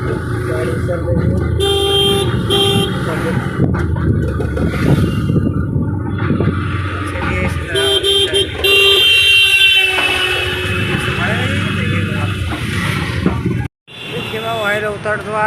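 Ride in an auto rickshaw through busy road traffic, with the engine droning, passing vehicles and repeated horn toots and honks near and far, and a voice speaking over the din.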